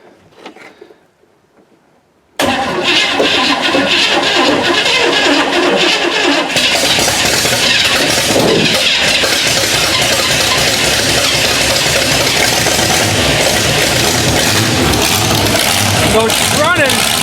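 An old project car with a homemade drive shaft, carburetor pumped before cranking, catches at about 2.4 seconds and settles into a loud, steady idle that fills the rest of the clip, with a slight rise in revs partway.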